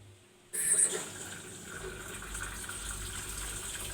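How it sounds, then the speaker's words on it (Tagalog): Water gushes strongly into an LG automatic washing machine that has had a fill error, after its filter and outlet were cleaned. The flow starts abruptly after a quiet moment and keeps up as a loud, steady rush of water. "malakas na yung tubig, oh"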